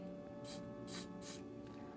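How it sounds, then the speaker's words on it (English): Three short hissing bursts of pink spray paint from an aerosol can, evenly spaced, with a fainter fourth puff, over a steady low background hum. "lightly press your cap, spray it through."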